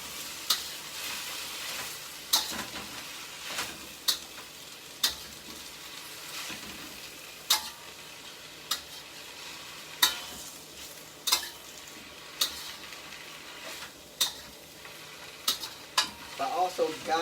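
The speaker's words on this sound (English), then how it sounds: "This stir fry takes about 5 minutes done." Vegetables with citron pepper sizzle steadily in a hot pan while being stir-fried, with regular sharp clinks of a utensil against the pan every second or so, close and moderately loud.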